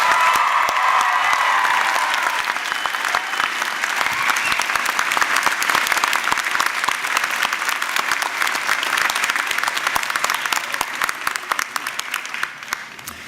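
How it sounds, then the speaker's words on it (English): Convocation audience at a university graduation ceremony applauding the faculty on stage, a loud, sustained wash of many hands clapping with scattered cheers, steady for over ten seconds before thinning slightly. "how about a huge round of applause as well for the faculty on stage?"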